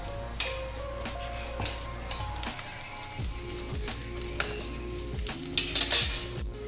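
A lachha paratha fries in ghee on a low flame, giving a soft, steady sizzle broken by scattered clinks and scrapes of utensils against the pan.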